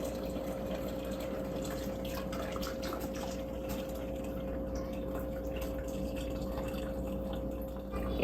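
Herbal infused water of mint, mullein and horehound is strained, a steady trickling and pouring over a constant low mechanical hum, running continuously without pause.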